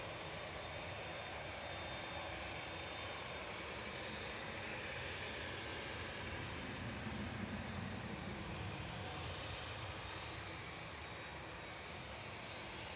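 A TUI Boeing 787-8 Dreamliner departs Manchester Airport, its engines giving a steady, broad distant roar that holds level throughout with no talk over it.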